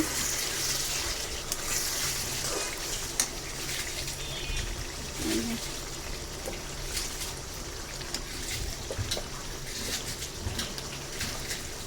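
Meat goes into a pan of cooked, well-fried spice paste for a home-style dish. A steady close sizzle of frying runs throughout with occasional stirring scrapes, and no one speaks.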